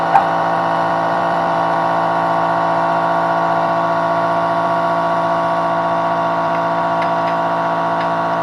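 A scooter with a freshly replaced clutch and variator idles steadily at close range, a loud, even buzzing drone that holds without revving.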